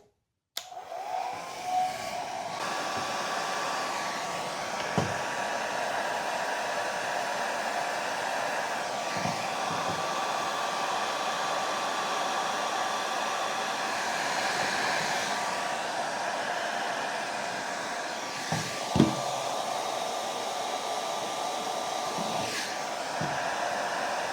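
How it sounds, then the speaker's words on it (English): A hair dryer runs steadily at a low, even whir, close by, with a few faint clicks and taps over the constant airflow. "So this blow dryer have a low and a high. First, I'm gonna try it on low."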